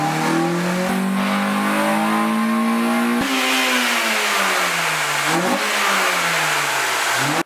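An Acura RSX engine revs hard and steadily on a dyno, pitch climbing then wavering unevenly, loud and close with a rough, shaky edge throughout.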